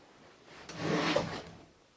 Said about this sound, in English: One of its drawers opens by itself.